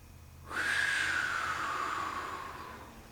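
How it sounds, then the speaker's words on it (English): Deep breathing during balloon self-treatment: one long, loud, close exhalation with a whistling airy tone that starts abruptly and slowly fades over about two and a half seconds. "I'm going to take several deep breaths."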